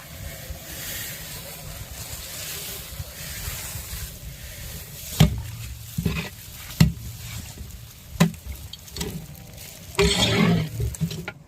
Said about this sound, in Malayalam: അടുത്ത് നമുക്ക് സേമിയ ഇട്ട് കൊടുക്കാം.